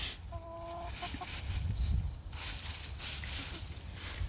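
Barred Rock rooster and hens clucking in a backyard flock, short bright calls early on over a steady low outdoor rumble, the birds fairly faint and close by.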